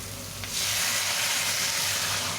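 Tiger prawns sizzle in a pan, and the frying suddenly swells into a louder, steady hiss as water is poured in, continuing without pause.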